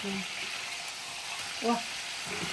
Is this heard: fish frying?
yes